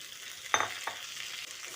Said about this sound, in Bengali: বেগুনটা দিয়ে আলুর সঙ্গে ভালো করে মিশিয়ে নিচ্ছি